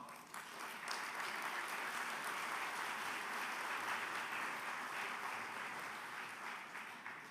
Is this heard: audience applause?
yes